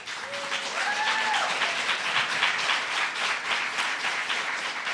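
An audience at a government event on executive orders for people with disabilities and autism claps steadily throughout, dense sustained applause with a brief vocal sound early on.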